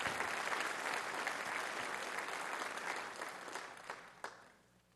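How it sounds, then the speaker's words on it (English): Scholarship night audience applause fills the room, a sustained wash of many hands clapping that slowly fades toward the end. "Please give yourself a big round of applause."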